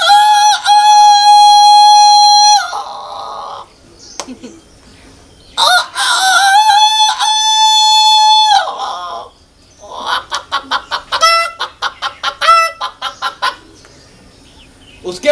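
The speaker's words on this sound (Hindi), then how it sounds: "सबसे पहले मुर्गा बोलता है" A rooster crows loudly nearby in two long, drawn-out calls, then follows with a rapid series of short, pulsing clucks.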